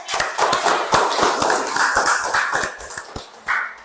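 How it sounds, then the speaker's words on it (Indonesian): Students clapping in a classroom, a burst of close, uneven hand claps with sharp individual slaps, no talking over them. "Tepuk tangan buat kalian semua."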